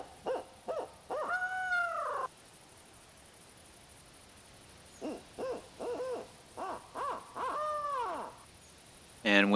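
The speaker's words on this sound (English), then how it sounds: "the locational collar makes the sound of a barred owl." Barred owl hoots from a locational collar in The Hunter Classic video game, a series of rhythmic hooting calls with rising-and-falling drawn-out notes, repeated in two bursts separated by a quiet pause, clear and fairly loud with no talk.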